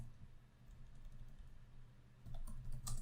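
Typing on a computer keyboard while writing code, heard as faint, quiet clicks that grow into a few sharper keystrokes near the end.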